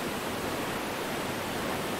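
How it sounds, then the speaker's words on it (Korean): Niagara Falls in winter roars as a steady, dense rush of falling water, a broad unbroken wash of noise that holds level throughout with no voices. "어디서 어떻게 보느냐에 따라 서로 다른 매력이 보인다는 나이아가라 폭포"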